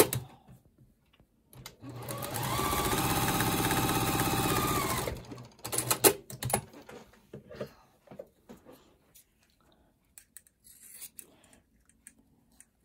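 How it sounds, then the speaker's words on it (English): A sewing machine stitches fabric squares together for a quilt block in one steady run of a few seconds, then stops and gives way to soft handling clicks and rustles. "I'm going to sit down at the sewing machine now and sew them together"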